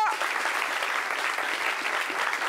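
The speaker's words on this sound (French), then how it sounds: "Applaudissements, s'il vous plaît." Dense, steady applause from a studio audience on a French-language talk show, welcoming Madame Nel Jamila, a marriage coach and author; continuous clapping throughout at even loudness.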